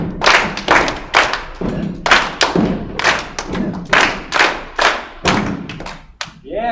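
Children in an elementary music class stepping and clapping in rhythm, giving a loud, regular series of thumps and claps about two per second with short gaps, and a voice briefly heard near the end.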